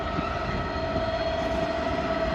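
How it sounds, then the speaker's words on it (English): A DB freight train hauled by locomotive 66181, terminating from Southampton, rolls into the sidings at Didcot with a loud, steady rumble and a sustained whine. "going into the sidings here at Didcot is going to be a terminating freight train off of"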